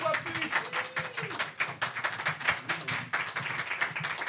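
Scattered clapping from a small audience at a slam poetry night in Cannes, uneven and moderately loud, with some chatter blended in.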